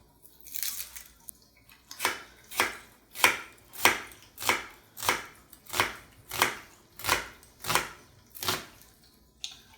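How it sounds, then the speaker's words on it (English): Knife slicing thinly through an onion on a board, about a dozen crisp, evenly spaced chops in a steady rhythm, close and fairly loud with no talking. "let's move on to our onion, which also needs to be sliced thin"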